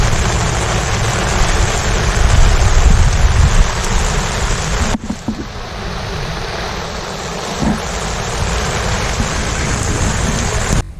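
Rain falls at a lakeside fishing spot, a broad, steady wash of drops that dips briefly midway before resuming, loud and close, with no one speaking.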